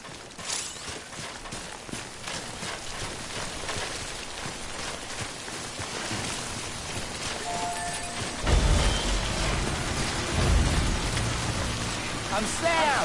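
Timefall rain falls in a PS5 video game, a steady patter of drops on surfaces with occasional footstep-like taps, growing heavier and louder partway through.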